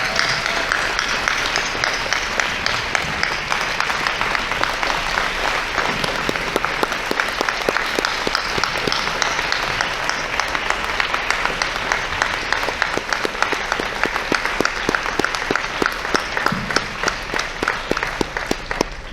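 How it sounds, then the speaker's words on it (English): A large audience at a vegan advocacy workshop applauds loudly and steadily, dense overlapping claps sustained for nearly twenty seconds with no talking. "give a round of applause to these marvelous people"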